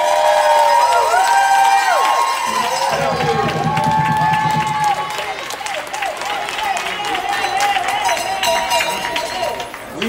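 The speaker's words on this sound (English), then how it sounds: "can you guys please give a round of applause for our student board members?" Applause and cheering at a meeting, loud crowd clapping with high shouts and whoops from many voices, including children, with dense overlapping cheers that gradually thin out while the clapping continues.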